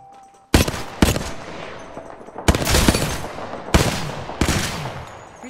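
Automatic weapon fire in Apex Legends, four loud close bursts of rapid shots separated by short pauses, each with a sharp onset and ringing tail, no one talking.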